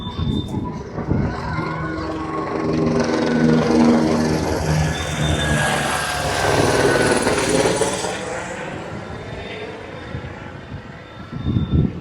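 A helicopter passes close by near Gandikota, its loud, steady rotor and engine roar filling the whole stretch and swelling and shifting in pitch as it moves past.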